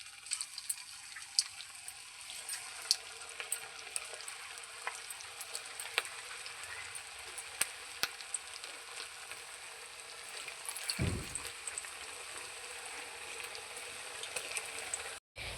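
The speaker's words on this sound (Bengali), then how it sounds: "এবার আমি পটেটো ফিঙ্গারগুলো ভেজে নেব।" Potato fingers deep-frying in hot oil in a wok, a steady close crackling sizzle with small pops throughout and a brief low bump near the end, no talking.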